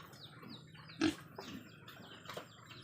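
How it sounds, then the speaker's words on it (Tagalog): Piglets in a farm pen, a few soft grunts and squeals heard at moderate distance, with one louder squeal near the middle over quiet barn ambience. "update ko po kayo sa ating mga baboy, sa ating mga patining"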